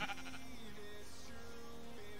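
A sheep bleats in Minecraft with the FTB Continuum modpack: one near, wavering, nasal bleat that is loud and alone, with no talk over it.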